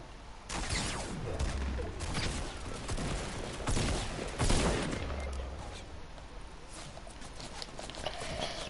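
Bursts of rapid video game gunfire in a battle-royale shooter match, a fusillade of overlapping shots with a few heavier volleys, loud and continuous across the whole stretch with no talking.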